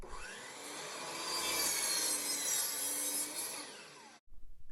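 A saw cuts through 3/4 inch plywood in a few seconds of steady, rasping strokes, loud and close, then stops abruptly and is followed by a few light knocks.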